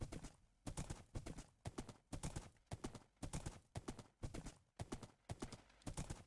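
Horse hooves clip-clop in Minecraft in a steady, brisk rhythm of about two strides per second, close and clear, with each beat sounding as a quick double knock and no talking over it.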